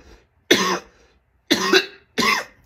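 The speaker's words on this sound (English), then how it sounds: "I didn't pause the video so y'all can watch me cough." A person coughs three times in separate harsh bursts with short pauses between, close and clear against silence.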